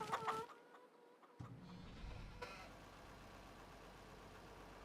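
Chickens clucking in the farming video game Farming Simulator 25: brief, faint clucks at the very start, then a soft, steady ambient bed with no talking.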